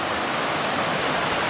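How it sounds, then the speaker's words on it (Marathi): Flowing water in the Konkan countryside of Ratnagiri during the rainy season, a dense, steady rushing wash with no break across the short stretch. "हे वाहतं पाणी"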